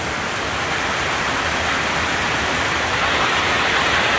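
A waterfall in Hidden Valley pours in a steady, loud broadband rush that holds constant throughout, with no voices over it.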